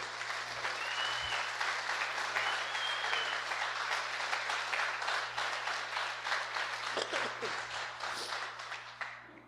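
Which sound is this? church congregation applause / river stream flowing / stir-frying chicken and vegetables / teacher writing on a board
church congregation applause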